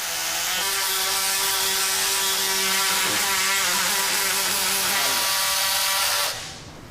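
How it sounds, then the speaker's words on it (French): A powered surgical saw whines steadily with a harsh, buzzing grind for several seconds while cutting bone during hand surgery, then cuts off abruptly near the end. "Maintenant, on scie."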